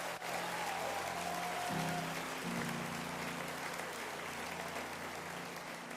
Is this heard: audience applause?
yes